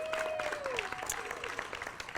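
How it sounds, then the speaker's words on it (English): An audience at a live performance event claps for a performer, brisk applause with a few whistle-like tones above it, fading slightly toward the end. "One more round of applause for Jeff Campbell."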